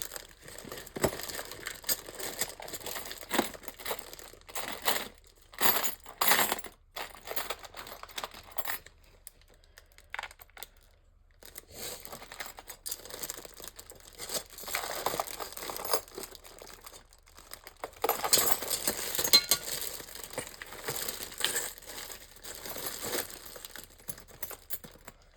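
Metal keys and watch faces clink and crinkle as hands rummage through a box of small metal objects, a close, busy stream of scraping and jangling bursts with a short pause midway.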